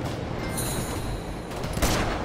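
Gunfire in the Uncharted video game, a quiet burst of shots in a snowy level with a sharper report near the end, heard against game ambience.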